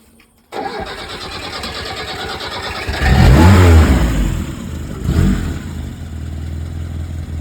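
A car engine cranks and catches, then revs hard twice under throttle before settling into a steady idle, its exhaust droning close by; the car was collected from another town and has a worn exhaust.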